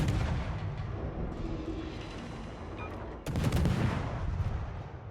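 Enemy shells fired at a ship in the naval battle game World of Warships, heard as rumbling, muffled booms and a dense roar. A sharp, louder impact lands near the end.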